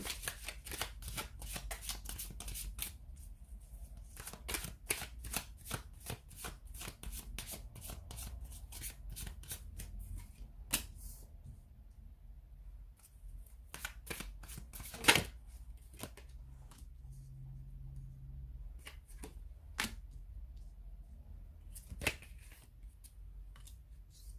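Tarot cards being shuffled by hand, a steady run of crisp riffling and flicking bursts with brief pauses, close and fairly quiet, no talking.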